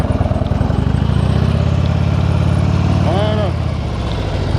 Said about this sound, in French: je laisse partir la moto